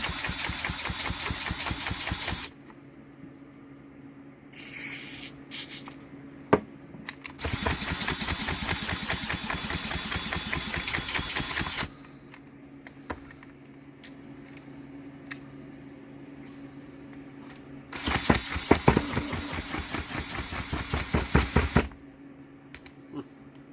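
A small engine cranked over in extreme cold of about -50°C, with three long bursts of harsh, rapid, loud mechanical chugging. Quieter gaps with faint clicks and knocks separate the bursts.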